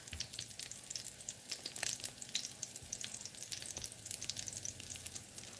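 Vegan food fries in a pan with a steady, crackling sizzle, dense popping spits running continuously and fairly close, with no voices.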